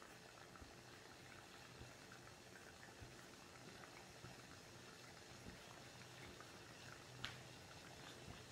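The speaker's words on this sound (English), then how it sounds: "Water is boiling. I have a rolling bubble already." Water boils on an alcohol stove with a steady bubbling hiss and low rumble, continuous and close, with occasional louder pops.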